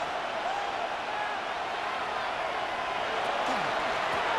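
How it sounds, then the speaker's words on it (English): Steady, dense stadium crowd roar in a Madden 26 NFL football game between Tampa Bay and Seattle, a constant wash of noise throughout with no speech. "This crowd into it now as we get to 3rd down."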